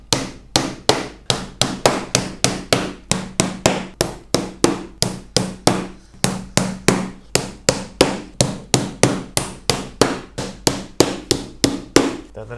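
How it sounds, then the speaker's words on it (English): Small lost head nails are hammered into the wooden edge of a top bar beehive during assembly, giving a long run of sharp, evenly spaced blows in quick succession close by. "you're basically going to just pin some of these around the edge while it's marked up"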